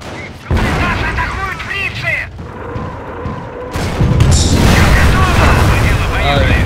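Artillery barrage in Company of Heroes, Eastern Front setting, pounding a bridge: a run of loud, deep booming explosions with crackling bursts, swelling heavier toward the end, while players talk over the blasts.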